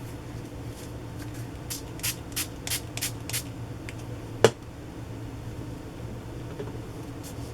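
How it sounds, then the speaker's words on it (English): A handful of short spray bursts of water in quick succession, close by, followed after a pause by a single sharp click. "what's going to happen to this when I spray it with water?"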